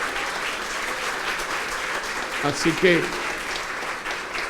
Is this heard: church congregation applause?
yes